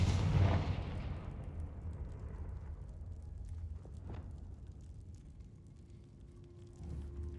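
A Confringo fire spell detonates in Hogwarts Legacy: a loud blast opens the clip, then decays into a crackling burning rumble, with a couple of fainter pops later on.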